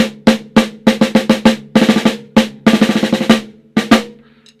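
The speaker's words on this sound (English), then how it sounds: "The snare drum sounds like this." A drum set snare drum is struck in crisp, rattling hits, close and loud, some single and some in quick rolls and flams, ending with a short sizzle of snare wires and no talking.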